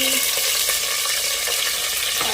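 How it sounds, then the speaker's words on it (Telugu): Green chillies fry in a hot pan with a loud, dense, continuous sizzle that stays steady and close for the whole moment, with no voices. "పచ్చిమిర్చి వేసేసుకోవాలి పచ్చిమిర్చి వేగుతూనే ఉంటే"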